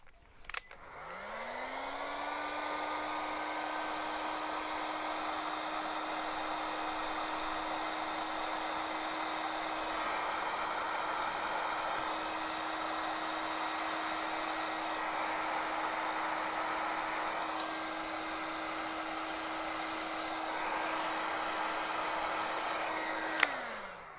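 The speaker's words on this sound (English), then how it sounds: "go and get my hot air gun." A hot air gun blows a steady, even whoosh with a constant motor whine while shrinking a black heat shrink sleeve on a 1/6 scale Land Rover model part, starting and stopping with a click at each end.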